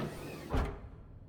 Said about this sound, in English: So I gotta hold this door open to let them cool off in there without them coming out.